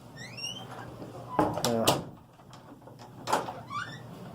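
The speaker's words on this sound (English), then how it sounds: "Here's how you fix squeaky doors." A squeaky interior door swings on a dry hinge, giving rising and falling high squeals at the start and end, with thumps of the door moving in between.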